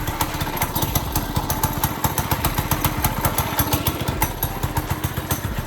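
A Monster Moto 80cc dirt bike, after sitting over a year and now fitted with a new carburetor, runs loud and close with a rapid, steady single-cylinder putter and regular pulsing beats throughout.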